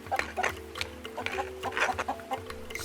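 A hen clucks in a rapid series of short, close calls for several seconds, with a tonal musical backing underneath.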